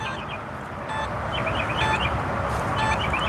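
Metal detector on a morning coin hunt giving repeated electronic double-tone beeps, bright and close, over a steady broadband outdoor rush with no talk.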